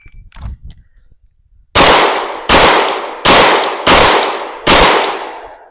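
Five loud live-fire pistol shots ring out at a steady pace toward a target on a shooting range, each a sharp close blast with a decaying echo, preceded by faint handling clicks.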